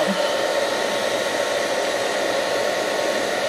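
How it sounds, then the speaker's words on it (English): A handheld blow dryer running on low heat and high speed, a loud, steady, close whoosh of blowing air with a constant motor whine and no change in level, no talking. "I'm going to use the blow dryer"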